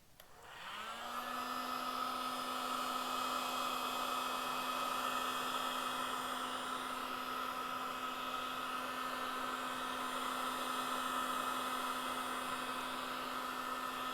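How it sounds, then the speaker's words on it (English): A heat gun blowing steadily to shrink wrap around a rod, switching on with a rising whine and then holding a constant, even airy roar with a steady tonal hum. "I'm just going to apply an even coat of heat along the entire thing until it's completely shrunk"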